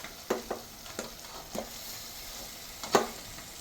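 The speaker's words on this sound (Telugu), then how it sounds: "మనం శుభ్రంగా కడిగి పెట్టేసుకున్న నాటుకోడి ముక్కలు కూడా వేసేసుకుందాము." Pieces of country chicken fry in a pan. Faint sizzling runs under a few separate scraping stirs of a utensil against the pan, with no voices.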